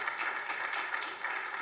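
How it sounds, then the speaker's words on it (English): Steady audience applause for a panel at Monaco Ocean Week, a continuous wash of clapping at moderate, even level throughout. "Let me have a round of applause for our great panel."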